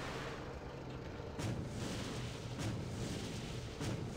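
A tank rumbles along in TimeSplitters Future Perfect with a steady, loud low roar. Heavier booming thumps break through it at regular intervals, roughly every 1.2 seconds.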